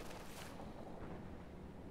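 Rapid MG-42 machine gun fire from Company of Heroes 2 crackles in a dense, continuous burst with boomy low rumble, mixed among other battlefield gunfire throughout.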